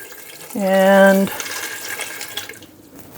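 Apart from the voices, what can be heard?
water poured from kettle into Instant Pot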